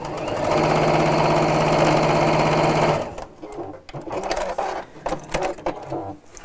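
Sewing machine stitching a zip into a bag, running fast and steady for about three seconds before stopping, followed by softer handling clicks and rustles.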